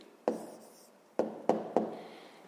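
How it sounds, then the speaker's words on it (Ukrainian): Pen strokes of someone writing an answer by hand for a fifth-grade maths exercise, heard as four short, sharp taps and scratches spaced across a quiet room with no talking. "записуємо напевно відповідь, пишемо відповідь"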